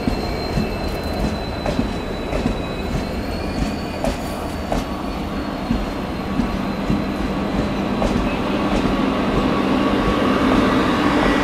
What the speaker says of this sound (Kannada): Mangaluru Yeshwanthpur weekly express